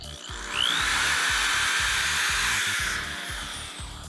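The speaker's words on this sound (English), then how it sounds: "Then we're going to go ahead and drill our hole." A power drill boring a pilot hole in a car's interior panel for a stereo install, a close, steady whirring drone that rises in pitch as it spins up, holds, then winds down.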